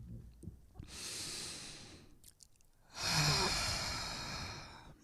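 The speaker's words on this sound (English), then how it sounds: "let us just take this moment and take a breath in" Two deep breaths drawn in slowly and close to the microphone during a guided meditation, each a long airy inhale separated by a short quiet pause.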